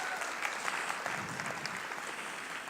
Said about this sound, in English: It's okay, you can applaud.